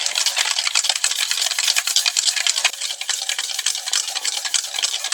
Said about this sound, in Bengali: চিনি আর সাদা তেল এইভাবে আমি নেড়ে নিব।